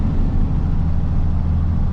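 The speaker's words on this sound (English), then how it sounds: "Yeah, lots of trucks at the Road King." Several trucks idle together at a Road King truck stop, including big-rig diesels such as a 15-liter Cummins, making a steady, loud low rumble with no gaps and no one talking.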